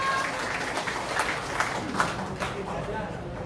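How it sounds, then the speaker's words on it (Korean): Applause from the audience at a Korean political party's provincial chapter ceremony as appointment certificates are handed out, a steady crowd clapping with faint voices mixed in. "큰 박수 부탁드리겠습니다."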